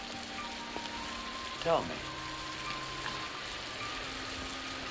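Faint, steady rain hisses softly in the background of a scene from the 1957 film A Farewell to Arms while a voice speaks briefly over it.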